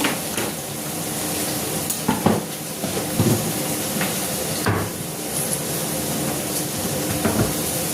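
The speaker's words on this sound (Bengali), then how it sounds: "তা লাউ ঘন্টের জন্য আমি ফোড়ন দিচ্ছি" Whole spices and bay leaf tempering in hot oil for a Bengali lau ghonto, a steady close crackling sizzle with occasional utensil clinks and knocks.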